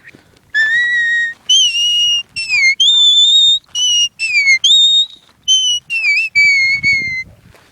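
A sheepherding whistle plays an intricate, fast-changing melody of about a dozen short, piercing phrases that sweep and warble between pitches, close and loud with brief gaps between notes and no voices.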